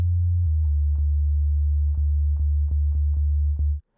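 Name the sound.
synthesizer bass with filter cutoff lowered for a deep sound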